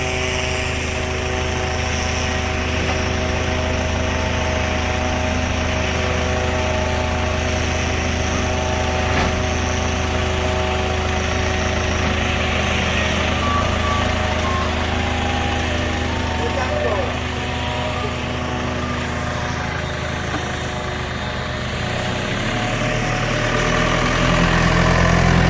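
An engine, likely a forklift placing rolls of artificial turf at an outdoor installation site, idles in a steady, continuous drone throughout, with a slight rise near the end and people talking over it.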